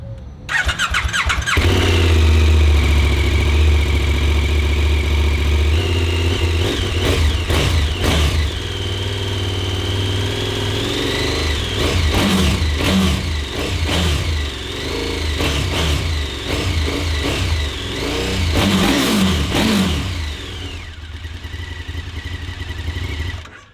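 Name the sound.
motorcycles with Akrapovic exhausts revving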